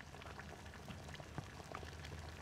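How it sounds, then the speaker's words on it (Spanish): A potato boiling in a pot gives a steady bubbling, crackling texture with scattered small pops, fairly close and quiet, with no talking over it. "La papa está hirviendo."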